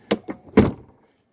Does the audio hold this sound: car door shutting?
yes